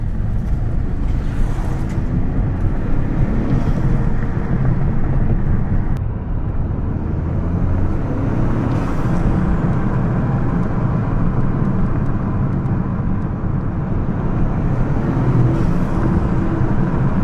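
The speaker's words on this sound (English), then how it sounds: "what I do like are the turbo sounds on this car" Stock 2025 Toyota GR Corolla with a turbocharged 3-cylinder engine, a steady loud engine and road roar running throughout with brief rising turbo whooshes around the second and ninth seconds, no talking.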